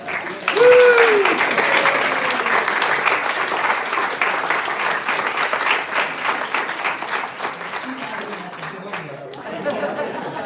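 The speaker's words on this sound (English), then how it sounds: "Let's give her a big round of applause" Audience applause welcoming a speaker to the stage at a church service, a steady mass of clapping lasting several seconds with chatter and a voice talking briefly over it before it thins toward the end.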